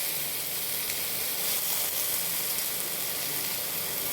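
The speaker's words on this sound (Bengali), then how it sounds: "আমি টমেটোটা দিয়ে দিচ্ছি।" Tomato drops onto lightly fried spices in a pan, setting off a steady, bright sizzle and hiss that runs evenly throughout, close and alone.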